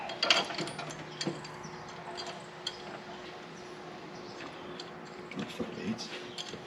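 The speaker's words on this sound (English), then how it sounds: "Ratchet." A ratchet wrench tightens bolts while a 572 engine is fitted into a 1955 Chevrolet Bel Air, making soft, quick ratcheting clicks in short bursts over a faint shop background.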